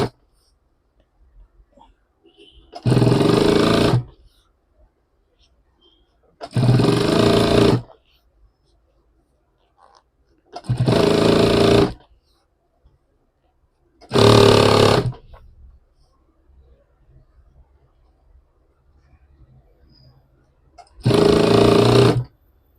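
Sewing machine stitching a bag made from pant pockets, five separate bursts of loud mechanical whirring, each a second or so long, with quiet pauses between.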